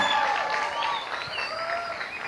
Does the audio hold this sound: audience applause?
yes